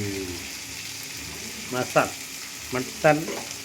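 Masala of onion, garlic, cinnamon, cloves and coriander fries for mutton, with a low sizzle under a few scraping stirs and brief clinks, and some faint voices in the background.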